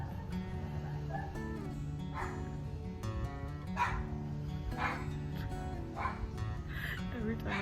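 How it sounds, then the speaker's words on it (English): A dog barks and yips repeatedly in short bursts indoors, fairly close, over steady background sound. "every time I talk, this dog goes crazy"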